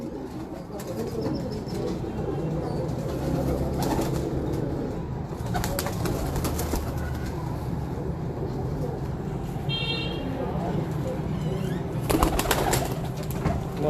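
Fancy pigeons belonging to Abdullah Khan of Kasur coo softly and steadily against a constant outdoor din of traffic with occasional horn toots, the birds faint and partly masked.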